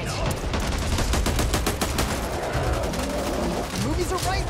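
Rapid, dense gunfire from the co-op zombie shooter Back 4 Blood, with close bursts of shots crowding together almost without pause and a voice talking over the shooting.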